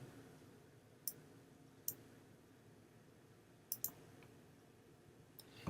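A few sharp, quiet computer mouse clicks land at irregular gaps, some in quick pairs, over a very faint room hiss.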